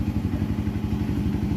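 Honda CRF150L motorcycle engine running steadily with a rough, pulsing low rumble and light mechanical clatter, close and loud throughout.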